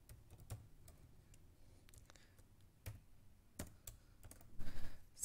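Someone types on a computer keyboard while entering text into an MS Word document, producing a quiet, close string of irregular key taps and a few louder strokes near the end, with no talking.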